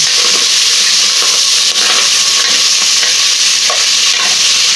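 Loud, continuous sizzling of pork frying over a strong flame in a hot pan for pakbet, with scraping and stirring sounds breaking through the steady hiss.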